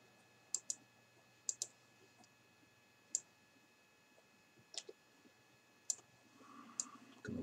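Sparse, crisp clicks and soft riffling snaps of cards being shuffled during a Sylvion board game, faint and close, with brief pauses between bursts.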